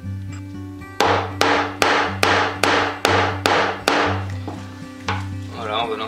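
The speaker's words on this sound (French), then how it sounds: "Je vais venir me servir d'un maillet pour marquer les trous." A mallet strikes leather pricking irons to mark stitching holes for a bushcraft leather pouch, eight sharp, close knocks at a brisk even pace, then a couple of lighter taps.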